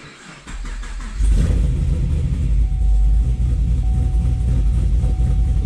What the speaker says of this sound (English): It's definitely at a, idling quite a bit better now.